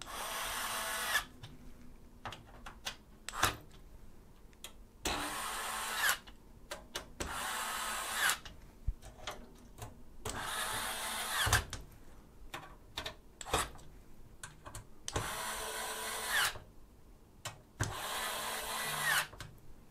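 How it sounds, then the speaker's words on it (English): Screws being driven in one after another on a Thermaltake TH280 V2 Ultra EX ARGB Sync AIO cooler install, a close powered driver whirring in repeated bursts of a second or two, separated by quiet gaps and small clicks. "Now we can tighten up all 8 of the screws."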